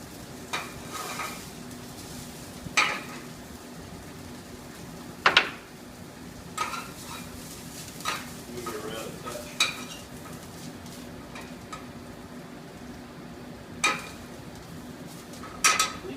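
Frisee sautéing in a pan gives a steady soft sizzle, broken by occasional sharp clinks and scrapes of a utensil stirring against the pan, close up with no talking.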